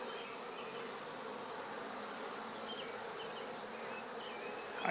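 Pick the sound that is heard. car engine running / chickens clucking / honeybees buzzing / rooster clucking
honeybees buzzing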